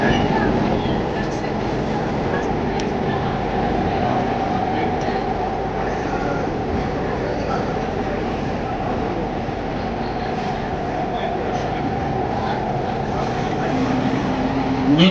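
A metro train rumbles steadily throughout, a continuous low rolling drone with faint rail noise, while voices murmur in the background.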